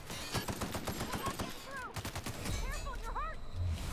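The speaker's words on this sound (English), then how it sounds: "Try the assault rifle." An assault rifle fires in The Outer Worlds, with rapid bursts of automatic gunfire close up followed by further shots and whooshing game effects, all at moderate level with no talk over it.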